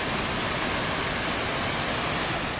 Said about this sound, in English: We got a creek crossing here on the Brushy Mountain Trail.